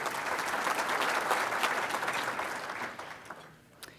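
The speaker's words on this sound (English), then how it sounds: "Let's give Thelma a round of applause" A large room of about 500 people at a State of the County gathering breaks into sustained applause that gradually thins and fades, leaving a few scattered claps and a knock at the end.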